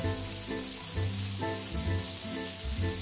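Elk meat sears in a hot pot with a steady sizzle, laid under a prominent rhythmic, tonal backing that keeps changing throughout.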